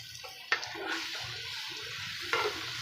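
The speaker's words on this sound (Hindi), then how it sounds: "सब्ज़ी को अच्छे तरीके से हम मिक्स करेंगे इसके अंदर।" Petha (ash gourd) vegetable is stirred into masala in a cooking pan, with a few sharp spoon scrapes and wet, squelching mixing over a faint sizzle.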